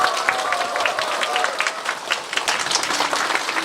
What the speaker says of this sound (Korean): 여기 계신 여러분의 큰 박수와 함께 시작하도록 하겠습니다